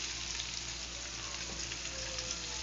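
Onions for vegan saag fry in a pan, giving a dense, even, steady sizzling hiss with no breaks, close and moderately loud throughout.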